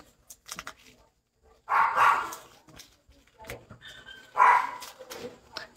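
Dogs bark in two loud bursts a couple of seconds apart, fairly close, with softer yips and scuffling in between.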